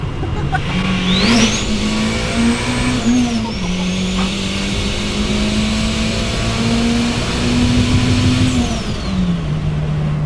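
Turbocharged B16-engined Triumph Acclaim accelerating hard, engine note climbing steadily with rising harmonic whine through gears, loud and close, continuous over the whole stretch with no talking.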